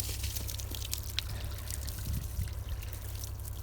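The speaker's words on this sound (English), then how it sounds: "we pour a little bit of hot water on it to make it so it unthaws" Hot water is poured over a frozen pipe on a dairy farm at -27°F, a continuous splashing trickle with occasional drips over a low steady mechanical hum.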